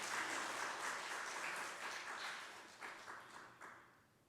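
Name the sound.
congregation applause in church service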